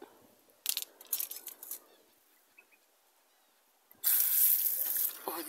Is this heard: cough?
no